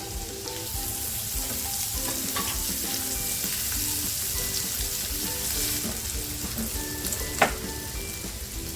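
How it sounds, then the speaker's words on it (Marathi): Chopped onion, ginger and garlic frying in a pan for bhindi masala, a steady close sizzle with occasional stirring scrapes and small clinks, no talk over it. "आता जो कांदा कापून घेतला होता ना तो टाकते काय ना अद्रक आणि लसूण मी टेचून घेतलं होतं"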